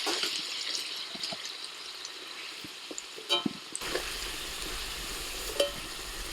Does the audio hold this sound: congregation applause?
no